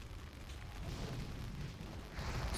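A Slate Dragon unleashes a fire barrage in a video game, producing a continuous, faint, rumbling roar of flames and bursts that swells slightly toward the end.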